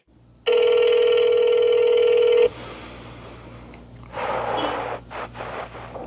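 A single long electronic tone sounds on a phone line for about two seconds, then gives way to quiet line noise and faint rustling, before a Google subscriber unavailable message.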